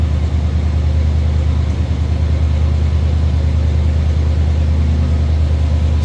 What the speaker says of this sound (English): Good sounding dual exhaust on it.